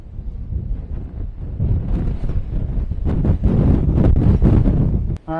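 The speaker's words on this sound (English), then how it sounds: "these winds are definitely picking up" Strong gusting wind buffets the microphone outdoors during a small drone high-wind test in gusts near 44 mph, a continuous loud rumbling roar that swells and surges before a brief dip and a short tone at the end.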